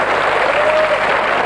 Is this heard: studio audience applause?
yes